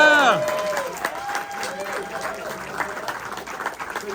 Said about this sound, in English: Give the two of them a round of applause.